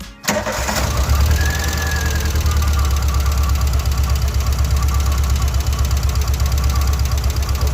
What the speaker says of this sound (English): we have an alternator noise. Lucky enough, it's just an alternator belt.